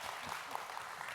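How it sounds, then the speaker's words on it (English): An audience claps in a brief, dense wash of applause that stays steady throughout at moderate loudness. "Can I get a round of applause for that?"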